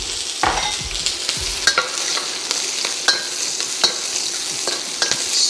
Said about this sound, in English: I want the stir-fried noodle to be relatively dry.